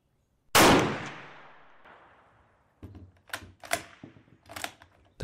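A single loud rifle shot from an original Kar 98 rings out and decays slowly, followed by a few softer metallic bolt-action clacks and handling knocks nearby.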